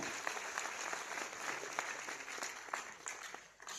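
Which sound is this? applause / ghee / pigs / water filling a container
applause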